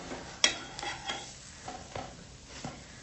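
Brinjal slices shallow-fried in a little oil are turned over in a pan, giving a few soft, scattered clicks and scrapes at low volume, with no talking.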